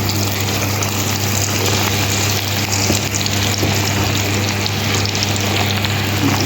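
Onion pakoda frying in hot oil, a loud, dense and constant sizzling hiss held close to the pan, with a steady low hum underneath and no talking.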